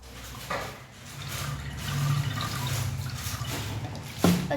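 Squash syrup pours from a bottle into a vessel of water, a close liquid trickle and splash that swells and fades in uneven gushes, ending with a brief clunk.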